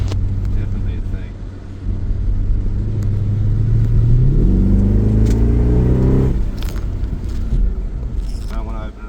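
A freshly built 6.1L HEMI V8 in an SRT8 Jeep Grand Cherokee rumbles from inside the cabin while driving, revving up in a rising pull before the throttle lifts back to a deep idle-like burble, with people talking over it.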